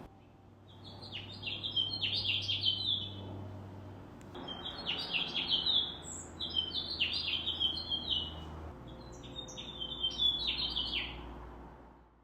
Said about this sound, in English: I was greeted with the song of a male at my feeder singing his heart out